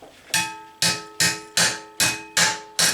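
Hammer striking steel on a handmade solid steel anvil, six sharp ringing blows at an even pace of about two per second, each leaving a clear metallic tone that decays before the next, close and alone.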